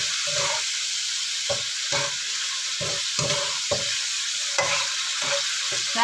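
Sliced banana blossom fries in a pan for a beef and yellow spice stir-fry, with steady loud sizzling broken by repeated rhythmic scrapes of stirring.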